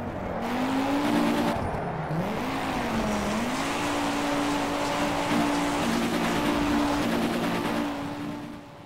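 Racing car engines in the video game Project Cars whine and rev steadily, pitch rising and falling as gears shift, loud and continuous with a rough road rumble beneath.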